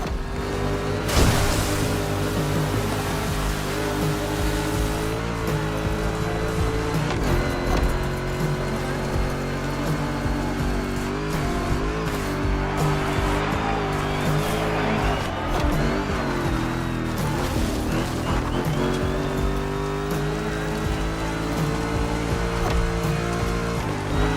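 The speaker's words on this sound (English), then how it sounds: "Make that Mustang jump like the devil is after it." A Ford Mustang driving in The Crew Motorfest video game, a steady loud engine drone with shifting pitch sustained throughout, mixed with rushing wind and game sound.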